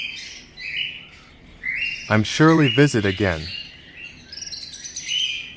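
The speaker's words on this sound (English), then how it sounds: "Birds chirping is therapeutic." Birds chirp and tweet at a city bird sanctuary, with scattered high calls near and far and a brief stretch of speech in the middle.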